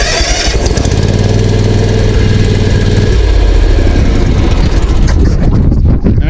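A repaired lawn mower engine runs loudly and close up with a steady droning hum, shifting pitch partway through and settling into a rougher, throbbing run toward the end.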